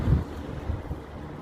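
Low, rumbling wind buffets the microphone in uneven gusts, strongest at the start, with no voices present.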